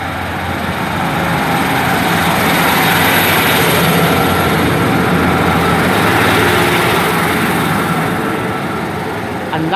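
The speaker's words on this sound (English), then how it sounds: "Right, departing out 15255." Train 15255 pulls out of Cathays station on a service to Treherbert with a loud, sustained engine roar that builds and then eases slightly as it leaves.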